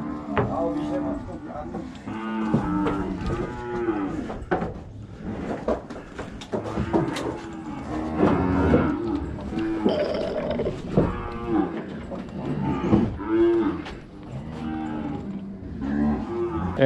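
Cattle moo repeatedly, close and loud, amid clattering noises during cattle handling on a farm, with a person talking in between.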